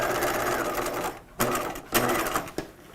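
Sewing machine stitching the seam of a 1950s-style shelf bust dress, a steady close whirring run that pauses and restarts in a few short bursts, with no talking.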